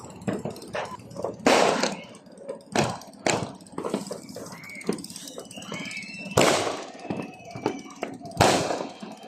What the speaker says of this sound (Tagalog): watch this video sa mga fireworks